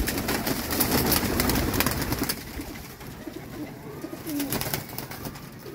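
Pigeons coo softly among other faint bird sounds, with a steady background hiss and scattered clicks throughout.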